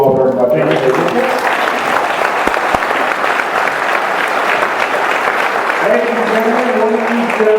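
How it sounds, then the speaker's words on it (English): An audience claps warmly at a New Hampshire 1st Congressional District political event. The applause builds into a loud, sustained wash lasting several seconds, with a speaking voice briefly at the start and again as the clapping fades. "Please give him a big round of applause."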